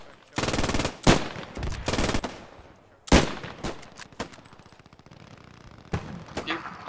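Bursts of machine-gun and rifle fire ring out in the WWII shooter Post Scriptum during an assault on a barn, loud and close, with long rapid volleys, pauses and a few scattered single shots.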